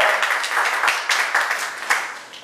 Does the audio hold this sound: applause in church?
yes